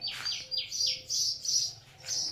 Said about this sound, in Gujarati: ચકલા ચી કરવા મીણ્યા.